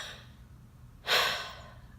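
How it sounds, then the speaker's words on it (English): A single deep diaphragm breath, heard as one close, airy inhale that swells quickly and tapers off over about half a second after a quiet pause. "put your hands on your diaphragm and take 4 deep diaphragm breaths"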